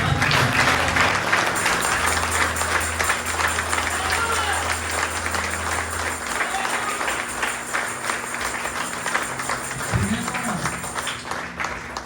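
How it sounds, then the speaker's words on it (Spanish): A Pentecostal-style church congregation at an anniversary service claps and cheers strongly, a dense, sustained applause filling the room, with a voice and low music tones underneath. "si es para Jesús, dáselo fuerte"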